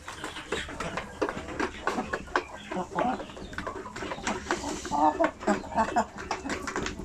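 Mixed-breed Shamo and Hatch chickens feeding, with soft clucks and pecking scattered through a busy farmyard, under a person's nearby talk.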